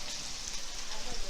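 Beef sizzling and frying in butter in a pan while cooking beef stroganoff, a steady hissing crackle filling the short moment with faint background voices.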